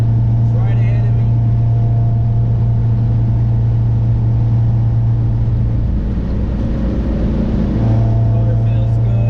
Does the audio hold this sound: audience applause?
no